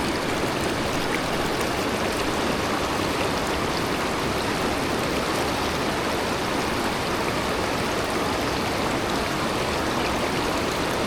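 Steady rushing of creek water flowing over rocks in a steelhead creek, a continuous broadband wash that stays even and close throughout with no voices.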